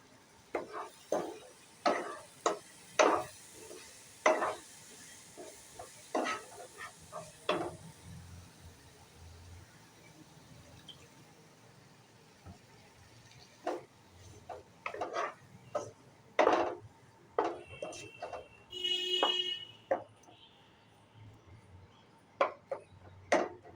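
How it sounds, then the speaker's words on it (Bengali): A spice paste with a little water for mutton keema ghugni is stirred in a pan, with repeated sharp spatula scrapes and taps in irregular bursts over a faint sizzle, close by. "দিয়ে মশলাটা একটু কষিয়ে নেব"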